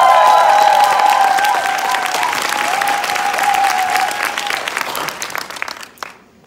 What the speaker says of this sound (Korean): 박수 저 뒤에까지 한번 시원하게 치고요.